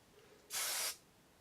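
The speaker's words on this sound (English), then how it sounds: "give it a little spray" A single short burst of hairspray on victory-roll styled hair hisses for about half a second, close and fairly loud, against a quiet background.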